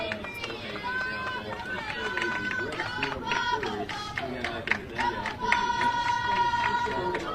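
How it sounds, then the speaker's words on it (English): Softball players in the home dugout on the third base side cheer on their batter at a high school game, with scattered shouts and claps under a nearby commentator's voice. "That's the players in the Minot dugout on the third base side you hear cheering on Lundy"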